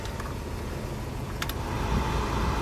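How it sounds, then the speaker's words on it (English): The blower motor of a 1985 Volvo 240 runs as a steady, even rush of air, swelling slightly louder near the end, with no talking. "the next thing we can test out is the blower motor"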